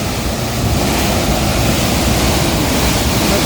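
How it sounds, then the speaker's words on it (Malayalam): Water gushes and churns out of Neyyar Dam into a canal, a loud, steady broadband roar of turbulent flow close by, unbroken and without any voices. "ഇങ്ങനെ തിളച്ച് മറഞ്ഞുകൊണ്ടിരിക്കുന്ന വെള്ളം"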